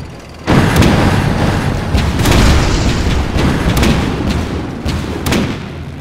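Artillery shelling in a Total War video game, a dense continuous barrage of deep booms and thuds with repeated sharp blasts, loud and sustained throughout.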